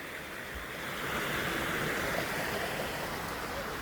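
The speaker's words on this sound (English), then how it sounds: "Here is a tree branch that fell across the river, creating a little waterfall." Small waterfall where a fallen tree branch lies across a river, a steady broadband rush of flowing water, fairly soft and continuous, rising slightly after the first second, with no voices.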